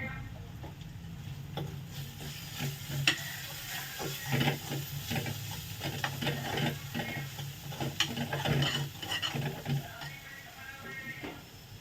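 A spoon scrapes and turns rice in a hot pan while egg rice is cooked, giving an uneven run of clinks and scraping under a soft sizzle, close and fairly loud.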